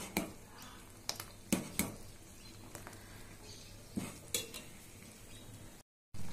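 A spoon scrapes and taps now and then in a pan while thick corn dosa batter is stirred. The clicks and clinks are quiet and irregular against a faint background hum.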